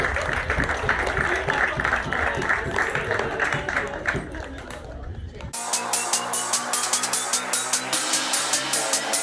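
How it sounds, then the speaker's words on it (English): Steady applause from a crowd at a school graduation, many hands clapping continuously, with a brief dip midway before the clapping resumes more crisply. "the round of applause is getting flat"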